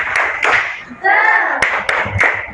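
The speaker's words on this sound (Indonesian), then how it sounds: "Oke, kita tepuk semangat dulu ya." An Indonesian primary classroom claps out a rhythmic spirit clap, sharp hand claps in a patterned beat with children's voices chanting between the claps, loud and close.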